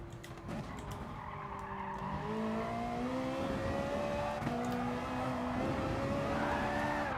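Race car engine in Gran Turismo Sport on the Nordschleife, loud and sustained with rising and falling gear tones, tyres squealing and skidding as the car slides, no talking.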